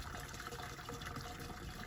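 Vermicompost tipped into a gallon of water for aerated compost tea, a continuous close watery gush and trickle for the whole stretch, no talking.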